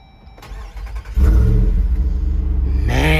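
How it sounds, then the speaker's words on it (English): Jeep Wrangler Rubicon 392 V8 starting with exhaust flaps open: quiet starter cranking, then a loud bark as the engine catches, settling into a deep, rumbling idle with a rising rev near the end. "if you want it to bark when you turn it on, make sure that the exhaust flaps are open"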